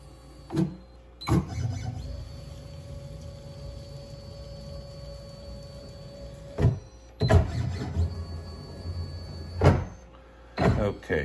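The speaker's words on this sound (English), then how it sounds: "So let's start by homing our machine." An Onefinity CNC machine homes itself, with a steady motor whine running for several seconds, broken by clunks and knocks as the axes hit their stops, then short further motor runs and thuds.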